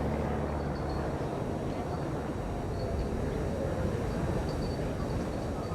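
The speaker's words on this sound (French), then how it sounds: "On voit cet avion à 280 km/h." A Starduster SA300 biplane flies at an air show, heard as a steady, continuous engine drone holding at moderate loudness without any clear rise or fall.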